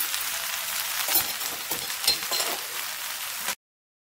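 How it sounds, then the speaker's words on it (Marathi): Chopped onion and curry leaves sizzle in hot oil with mustard seeds in a pan, a steady close hiss with occasional clinks of stirring, then sudden silence. "आता टाकणार आहे कांदा आणि कढीपत्ता दोन्ही एकदाच टाकले मी. आता चांगलं भाजून घ्यायचं."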